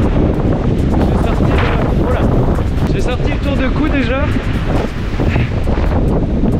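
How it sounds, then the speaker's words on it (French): Strong wind buffets the microphone on a Mont Ventoux mountain trail at around 1400–1500 metres during a trail race, a loud continuous roar throughout with someone speaking briefly over it. "Il y a déjà beaucoup de vent."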